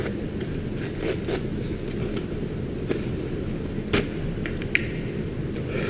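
Scissors snip through a sheet of sandpaper being trimmed to fit a palm sander, giving a few sharp, dry crunching cuts spaced irregularly over a faint background hiss, close up and with no talking.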